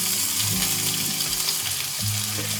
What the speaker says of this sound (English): We'll drain off all the juices first